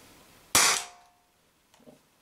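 A single sharp, loud shot from an Umarex HDP50 CO2 pistol firing a hot glue ball while the gas runs low, the report decaying over about half a second, followed by a faint click.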